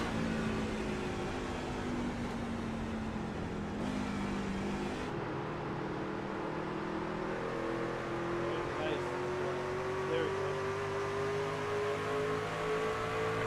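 Racing truck engine in an iRacing game race at New Hampshire, a steady droning engine note that rises gradually in pitch across the clip, with no voices over it.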